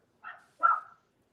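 A dog inside a house gives two short barks, the second louder and longer, close by and quiet overall, with silence around them and no talking.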